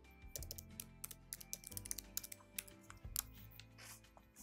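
Fingers type a password on a computer keyboard, producing quick, uneven bursts of close, light key clicks with brief pauses, quiet and without talk.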